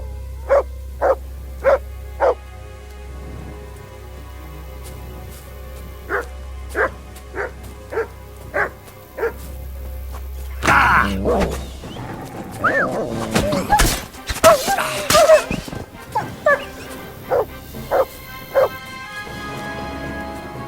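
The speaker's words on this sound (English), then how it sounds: "Good dog, Mutt" Dog barking in Kingdom Come Deliverance 2, a series of short, evenly spaced barks at close range, broken by a noisy stretch with shouting and other game sounds before the barking resumes.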